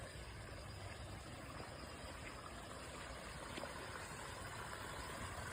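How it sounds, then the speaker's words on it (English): A garden water feature beside a moon gate and small sitting area runs steadily, a faint, continuous broadband wash of flowing water with no talk over it. "you may start to hear a little bit of a water feature, which is adjacent to the moon gate and this little sitting area"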